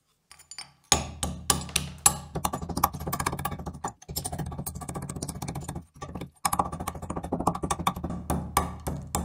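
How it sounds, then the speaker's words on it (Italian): Rapid, uneven tapping and pounding of a hammer crushing pottery shards into fine powder, close and fairly loud, with brief pauses between bursts of strikes. "iniziamo a martellare i nostri cocci fino ad ottenere una polvere sottile come questa qui"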